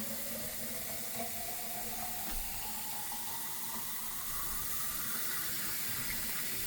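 Tap water runs steadily into a kitchen sink as it fills, making a continuous close splashing hiss with no pauses.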